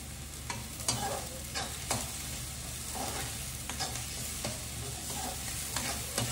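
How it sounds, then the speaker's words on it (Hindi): Garlic roasting in a pan for egg curry, a steady sizzle with regular spoon scrapes and taps as it is stirred, moderately close with no voices. "रोस्ट करेंगे प्रॉपर और स्टर करते रहेंगे साथ साथ ताकि ये लगे नहीं"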